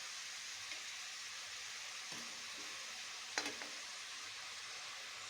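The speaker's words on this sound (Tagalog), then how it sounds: "Ayan, lalagay na natin ang ating tomato sauce." Tomato sauce goes into an oiled, sautéed mix for chicken pochero, and the pan answers with a steady soft sizzle and a few quiet stirring scrapes and clinks, with no voice over it.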